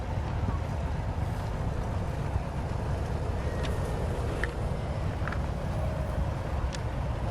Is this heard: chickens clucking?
no